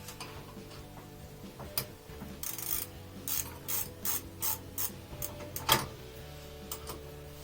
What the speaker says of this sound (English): so you get your 14 mil ratchet.